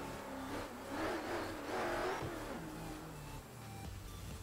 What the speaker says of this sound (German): ich komm mit meinem Königsegg